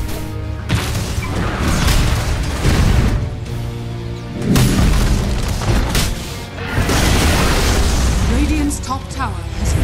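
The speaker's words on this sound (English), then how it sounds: "Radiant's top tower has fallen." A tower in Dota 2 comes under attack and falls amid a loud, dense barrage of booming impacts, crashes and explosive bursts. Heavy battle effects run nearly continuously and swell in waves, with voices mixed in.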